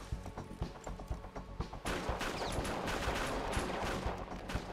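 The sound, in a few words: gunfire in the video game GTA 5 Online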